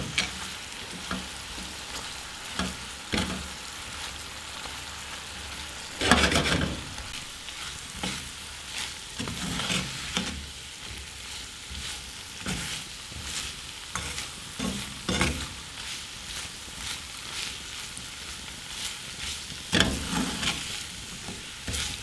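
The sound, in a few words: stirring thickening sugar syrup for candied orange peels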